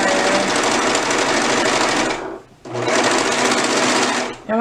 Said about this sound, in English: So we're just going to stitch down just a pocket.